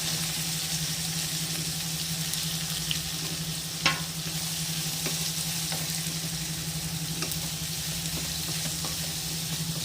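Chopped onions sautéing in a pan for chicken roll filling, with a continuous close sizzle and frying hiss, a steady low hum beneath and occasional light stirring taps, no talking.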